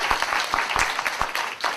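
An audience in a university lecture hall applauds to welcome a retiring history professor for his farewell lecture, a brief burst of steady, moderately loud clapping from a crowd with no talk over it.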